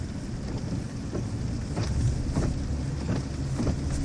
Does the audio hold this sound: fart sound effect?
no